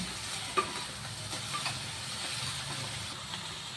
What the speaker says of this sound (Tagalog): Ilagay natin yung sibuyas at saka luya.